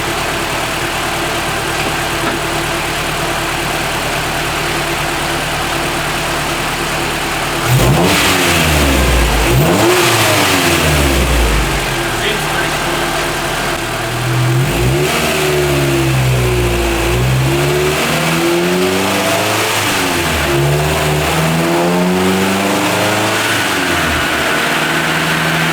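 A Honda engine, a stock Integra Type R or bolt-on GSR Civic hatch, idles steadily and then runs up hard through repeated full-throttle pulls on a DynoJet dyno, each rev rising and falling loudly and close.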